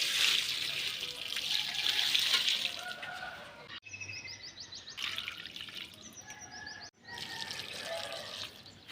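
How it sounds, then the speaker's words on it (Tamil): Water left from washing rice and urad dal is poured onto garden plants, a steady splashing pour broken into a few short bursts, with birds chirping outdoors. "அரிசி களைஞ்ச தண்ணி, உளுந்து களைஞ்ச தண்ணி எல்லாம் வேஸ்ட் ஆக்காமல் செடியில் ஊற்றிடுவீங்க எப்போதுமே."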